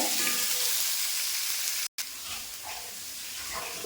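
Sliced onions sautéing in a pan with salt give a dense, continuous sizzle. It cuts out for a moment and comes back just as loud.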